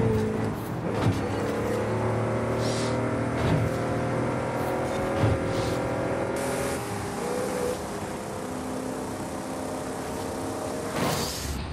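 Plymouth Belvedere driven in a racing video game, a steady droning engine that holds a constant level throughout with faint shifts in pitch, heard alone without talk.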